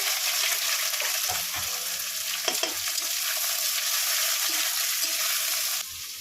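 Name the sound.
frying chopped onions in oil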